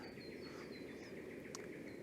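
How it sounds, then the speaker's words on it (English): Faint bird song, thin high whistles and one sharp chirp, rises over a steady hiss of background noise on a riverbank in the early morning. "tried to pick up some bird song"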